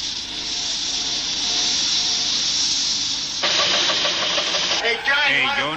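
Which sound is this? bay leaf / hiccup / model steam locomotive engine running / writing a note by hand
model steam locomotive engine running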